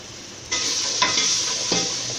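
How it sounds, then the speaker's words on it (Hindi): Tomatoes with ginger garlic paste sautéing in a pan, a steady close sizzle with a few sharp stir scrapes and spatula clicks, no talking. "अब इसको डाल के अच्छे से भुनना है जब तक टमाटर बिल्कुल मैश ना हो जाए"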